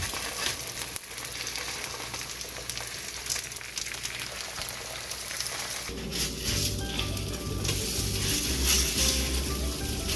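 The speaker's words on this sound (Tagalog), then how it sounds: "Luto na tayo ng itlog." Eggs fry in a pan seasoned with garlic salt, giving a steady close sizzle throughout, with a louder, denser crackle setting in about halfway through and holding to the end.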